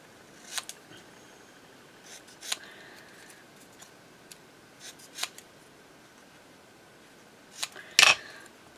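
Scissors cutting paper for a junk journal, a few sparse crisp snips spaced apart, close and fairly quiet, with a sharper louder snip near the end.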